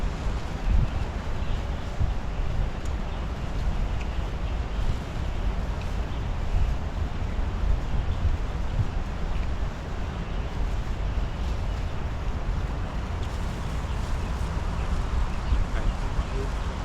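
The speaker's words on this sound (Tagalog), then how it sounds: "Tapos yung hangin yan," Continuous outdoor wind rumbles and buffets against the microphone, a steady broadband roar with no breaks throughout.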